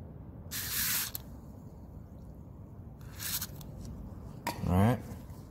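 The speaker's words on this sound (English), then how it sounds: "Now let's see if we can spray a little bit inside it." Two short hissing bursts of grease sprayed from an aerosol can into a 2001 Honda Accord seat belt buckle, then a third longer burst, with faint handling noises in between.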